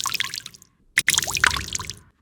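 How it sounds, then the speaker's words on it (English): Water drips from a sound-effects ambience collection of water objects, a few close, wet plinks and squishy droplets, then a brief gap before a denser cluster of liquid drops. "some drips,"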